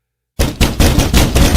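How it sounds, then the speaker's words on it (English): Heavy, forceful banging on a door breaks a dead silence, a rapid series of loud close thuds in uneven rhythm. "The banging was so hard I lost balance."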